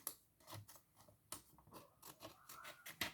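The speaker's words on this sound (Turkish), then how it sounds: "Yine şuradan kesiyorum arkadaşlar." Paper being cut with scissors to make a paper ring, a quiet series of close crisp snips in an irregular rhythm with short gaps between cuts.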